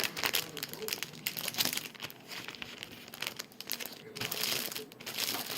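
A paper sample packet crinkles and rustles as it is folded over, close and moderately loud, with a voice talking over part of it.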